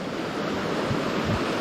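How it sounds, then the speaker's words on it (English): A waterfall in Upper Michigan roars as a steady, dense rush of falling water, close and continuous, with low wind buffeting on the microphone and no voices. "There's the waterfall."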